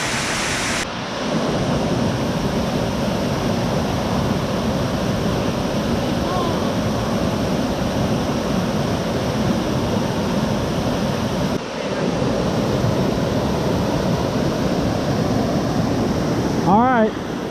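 Crow Creek Falls roaring in the backcountry, a loud, steady rush of falling water heard up close for the whole stretch, with a brief voice-like sound near the end.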